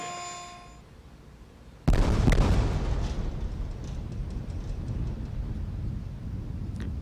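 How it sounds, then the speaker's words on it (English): Space shuttle Columbia's sonic booms on arrival for landing: a sudden loud boom cracks out after a quiet tonal hum, then rolls into a long rumbling echo with a second thud following. "Sonic booms announcing Columbia's arrival in the landing area."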